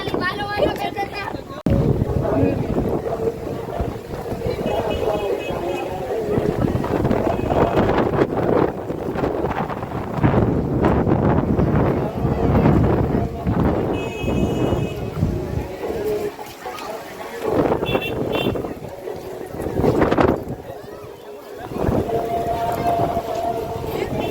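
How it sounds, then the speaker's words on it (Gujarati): Strong gusting wind buffets the microphone in a constant low roar at the Swaminarayan temple in Poicha, with people talking throughout. "બહુ મસ્ત પવન આવે"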